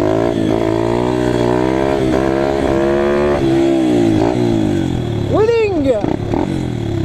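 An Apollo RFZ dirt bike in second gear revs hard for a wheelie: a loud, close engine drone rising and falling, with a sharp rev spike near the end, and someone talking over it.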